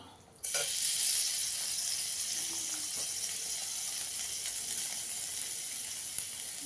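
Fried bitter gourd, bori (lentil dumplings) and fish pieces drop into a hot pot for a fish shukto, setting off a loud, steady sizzle that holds close and continuous after a sudden start.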